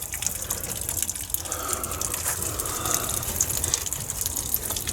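Pure water gushes and splashes from an undone water pipe while a system is drained for winter, a steady rushing, trickling flow at moderate level with no voices.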